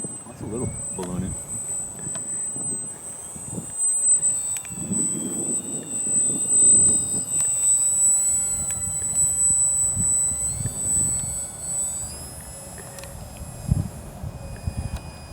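A small Durafly Micro Tundra RC plane on a windy day whines overhead with a steady high motor pitch that wavers as it moves, mixed with wind buffeting and voices talking throughout.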